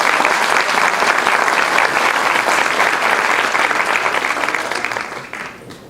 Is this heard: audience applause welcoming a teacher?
yes